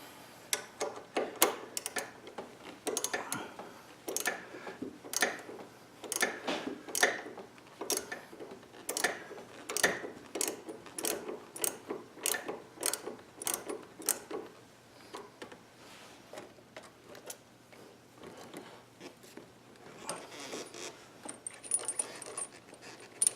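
Metallic clicks and ratcheting ticks from wrenching out 19mm riser bolts on a 2017 Indian Roadmaster motorcycle, a steady run of sharp, close taps with no talking.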